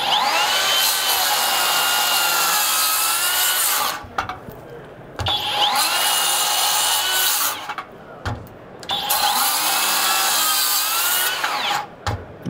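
A cordless Skilsaw worm drive circular saw cuts through wood in three long, loud passes, each a steady high whine that drops into short quiet gaps between cuts.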